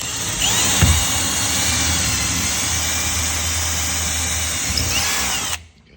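A power drill whines steadily at full speed for several seconds, loud and close, then cuts off abruptly, drilling through to mount aerial yoga silk brackets.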